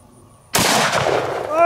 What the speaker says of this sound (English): Now let's hit this watermelon with a 350 grain hollow point